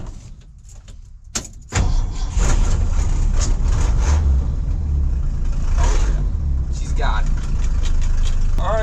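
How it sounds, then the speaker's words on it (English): A 1968 Ford F-350 dually shop truck cranks to life after a door thunk and settles into a steady, loud, close idle, with brief talk over it. "1968 Ford F-350 dually. Let's ride."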